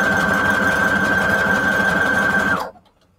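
A sewing machine stitching paper photo embellishments for a junk journal, a fast steady mechanical whir running loud and close for about two and a half seconds before stopping abruptly into near silence.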